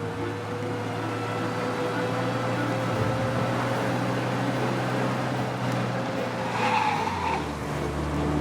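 A car skids while fleeing police in Mafia Definitive Edition, a steady engine drone with tire noise running throughout, closer and louder, plus a brief higher squeal near the end.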